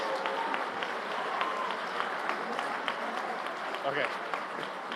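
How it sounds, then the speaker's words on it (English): Large audience applauding steadily at a world schools debating championship grand final, dense continuous clapping with crowd noise and faint voices mixed in throughout. "Let's give a round of applause to all the Octo finalist teams."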